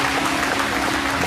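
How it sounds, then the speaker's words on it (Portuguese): Church congregation applauding during a worship service: a steady, dense wash of clapping from many people that holds at the same level throughout. "Pode aplaudir mais forte, que ele é digno."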